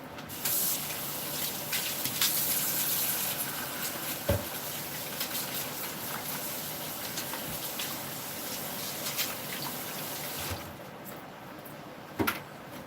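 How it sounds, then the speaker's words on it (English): Hands being washed under a running kitchen tap, a steady close rush of water that stops near the end, followed by a brief clunk, with no talking. "Wash my hands here."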